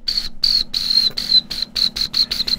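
Crickets chirp loudly and close in a rapid series of about a dozen short, evenly spaced pulses.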